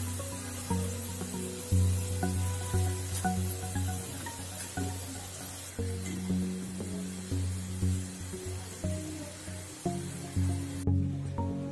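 French fries deep frying in hot oil make a steady, dense sizzling hiss that runs throughout, with a continuous tonal background sound underneath.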